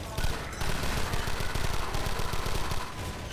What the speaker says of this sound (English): which is basically a machine gun